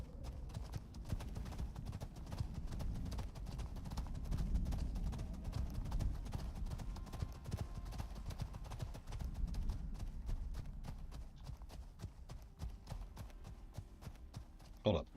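Horse hooves clip-clop steadily in Icarus, a survival video game, as the horse travels through the Null Sector, a rapid even rhythm of hoofbeats over a low rumbling background, loud and close throughout.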